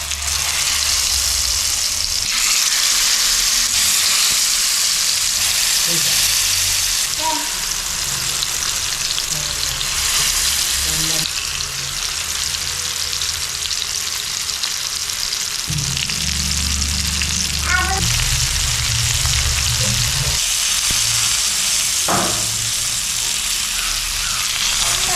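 Marinated, masala-rubbed pond fish (snakehead) frying in hot oil in a rustic village kitchen. A loud, close, continuous sizzle with bubbling crackle is broken by occasional scraping and stirring sounds.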